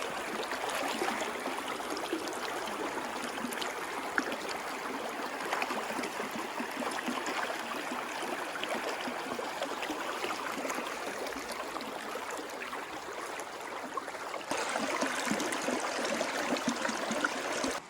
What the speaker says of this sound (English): this river is beautiful. Check it out.